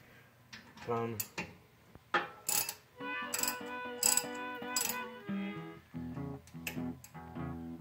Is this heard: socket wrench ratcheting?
yes